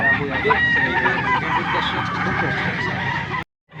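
A young gamecock, a stag offered for sale at a bird market in Angeles, Pampanga, crows and clucks amid continuous crowd chatter and other fowl nearby, the sound steady and fairly loud before cutting off abruptly near the end.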